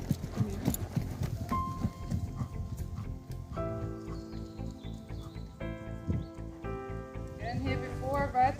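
Hoofbeats of an Icelandic horse moving in a gait, a steady rhythmic clip-clop under a melodic music track, with a voice briefly present.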